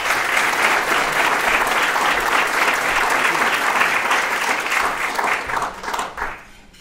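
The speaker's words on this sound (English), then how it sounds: "Put your hands together." A live audience gives steady, enthusiastic applause welcoming a speaker at a Federal Reserve event, the dense clapping holding loud and even for several seconds before tapering off at the end.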